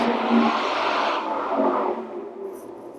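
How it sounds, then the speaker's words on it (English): A loud car revs hard on a city street in Queens, an aggressive roaring engine that rises and then fades as it passes, nearby and dominant with no talk over it. "They just run their cars like this so loud."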